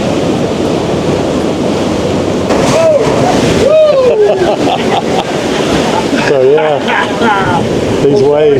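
Ocean waves surge and wash in close by at Curacao during a snorkeling outing, with strong wind buffeting the microphone while several people talk and exclaim.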